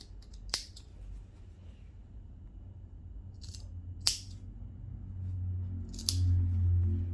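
Scissors snipping fabric while pieces for a lined skirt with a separate waistband are trimmed: a few sharp, isolated cuts spaced seconds apart, quiet and close against a low background hum.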